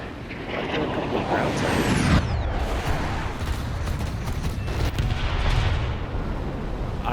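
Saab J35A jet's 30 mm aircraft cannons in a video game hammer out long rapid bursts of booming fire under a constant roaring engine, loud and close throughout.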